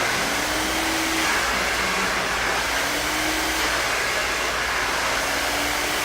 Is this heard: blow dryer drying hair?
yes